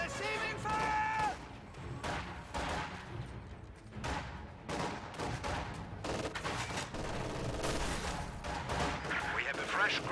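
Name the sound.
gunfire in a video game battle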